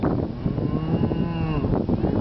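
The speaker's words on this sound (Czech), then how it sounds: "A tady ty kravičky taky." Cows in a pasture lowing, one close, sustained moo rising and falling over a couple of seconds, with faint overlapping calls behind it.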